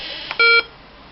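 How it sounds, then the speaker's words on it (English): A single short electronic tone from a ZX Spectrum emulator running on Ubuntu, a clean steady beep lasting about a fifth of a second, loud and alone against quiet background. "yep, we have our beep."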